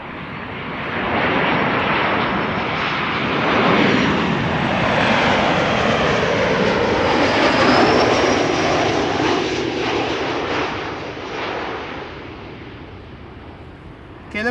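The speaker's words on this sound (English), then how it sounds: "KLM Flight 1614 arriving from Milan" A KLM airliner arriving from Milan at Amsterdam Schiphol, its engines roaring loud and steady throughout, with a broad rushing jet sound that swells slightly mid-pass and eases toward the end.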